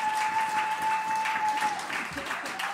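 An audience applauds at an awards ceremony for a conference's organizers, dense steady clapping that continues throughout with a faint steady tone beneath.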